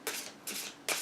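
A Goddess Guidance oracle card deck being shuffled by hand in three quick, soft, papery riffling bursts, close and quiet with brief gaps between them, and no speech.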